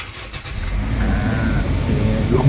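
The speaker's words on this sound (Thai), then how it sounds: "ผมเหยียบเบรกนะครับอ่าสตาร์ท" A 2019 Toyota Corolla Altis 1.6G cranks and its engine catches, settling into a steady close idle that builds slightly toward the end.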